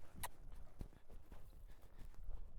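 Hooves of a horse clip-clop at a walk on firm ground, a steady, fairly quiet rhythm of distinct hoof strikes at moderate distance with light background noise.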